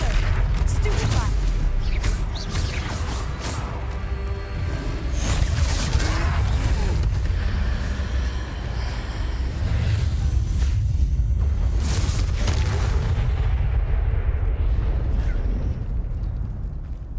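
Stupefy spells cast during a Hogwarts Legacy troll fight land as repeated booming magical blasts within a dense, loud wash of combat noise.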